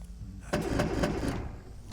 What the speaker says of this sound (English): Let me just double check the engine actually starts. Listen to that baby roar.